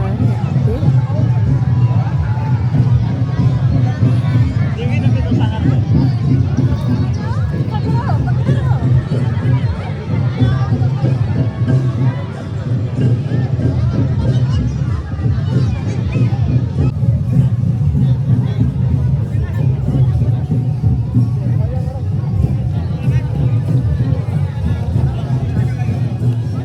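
Dense crowd hubbub at a Tusu fair in Ghatshila during Makar Sankranti, a steady, loud wash of many overlapping voices with traffic noise mixed in, continuous throughout.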